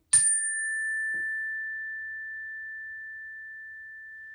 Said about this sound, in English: Take a deep breath in and a slow breath out while you're listening to the chime.